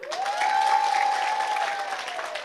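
Audience applause at an Islamic religious lecture (pengajian) in Sidomukti, Cilacap, a steady wash of clapping from a crowd lasting a couple of seconds, with a sustained tone or voice held over it.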